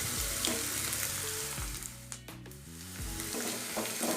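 Onions sizzle in a pan with curry leaves and slit green chillies, a close, continuous frying hiss broken by low scraping stirs and a short lull partway through.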